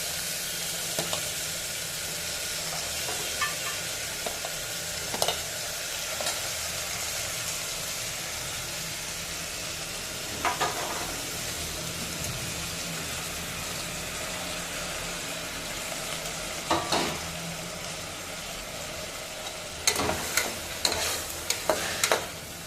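Field bean and potato curry sizzling and simmering in a pan, a continuous soft frying hiss with occasional clinks and scrapes of stirring, steady and close with no voices.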